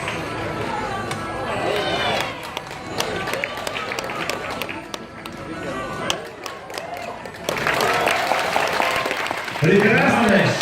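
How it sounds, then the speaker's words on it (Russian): A crowd applauding a rider's round at the St. George tournament, a dense clapping patter running under speech and swelling louder toward the end. "Заслуженный аплодисмент"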